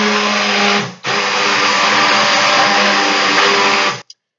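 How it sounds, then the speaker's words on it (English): A stick blender whirs through soap batter of lye solution and oils, a steady loud motor drone that cuts out briefly near the start, then runs for about three seconds before stopping abruptly. "when you raise your stick blender out"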